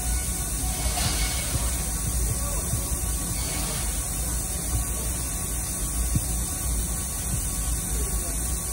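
An Alltra PG14-14 bevel-head CNC gantry plasma cutter slices quarter-inch plate, giving a steady, loud hiss over a constant electrical hum that runs unbroken throughout.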